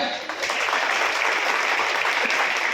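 A crowd claps at a Diwali gathering for sanitation workers in Jhabua, sending up dense, sustained applause that holds at a fairly loud level throughout.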